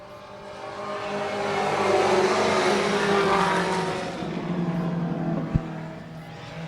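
Four-cylinder pro race cars battle side by side down the back straight of an oval track, their engines swelling to a loud roar as they pass and then fading, with a sharp knock near the end.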